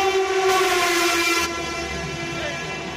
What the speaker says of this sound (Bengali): ট্রেন যাচ্ছে, ট্রেন সেই স্পিডে বেরিয়ে যাবে